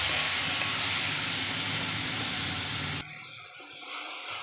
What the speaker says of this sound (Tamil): அதை இதில் போட்டுட்டு அதையும் நல்லா வதக்கிக்கலாம். இது கொஞ்சம் நல்லா வதங்கி வரட்டும்.